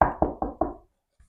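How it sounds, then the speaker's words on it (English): Four quick knocks on a door, evenly spaced and fairly close, followed by silence and a faint tap at the end. "Just knock on the door."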